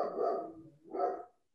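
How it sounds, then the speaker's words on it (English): Dogs bark nearby in two short bursts during a panel discussion, with a brief yip at the end and no talk over them. "Oh, we have the dogs."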